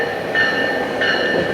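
Passenger train arriving at Simi Valley station, a loud close rumble with metallic squealing tones rising twice, heard alone without talk.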